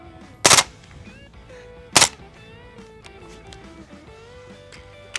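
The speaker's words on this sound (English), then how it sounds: "the same sound of machine gun fire" Two sharp, loud 9mm pistol shots at an outdoor shooting range, about a second and a half apart, with quieter background murmur and faint noise between them.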